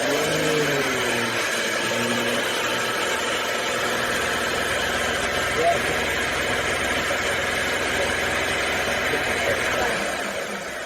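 A Chevy 3.1L engine with a leaking lower intake gasket runs steadily close by, its mid-pitched drone holding for about ten seconds with a faint rise in revs before easing off slightly at the end.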